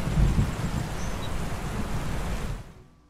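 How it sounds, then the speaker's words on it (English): Distant rolling thunder from a Skyrim sound mod rumbles as a broad, steady roar during a stormy exterior scene, swelling briefly at the start and fading away toward the end. "add thunder sounds to exterior regions"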